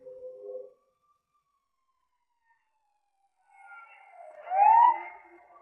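An ambulance siren rises and falls in a brief, clear wail after a short tone and a few seconds of silence.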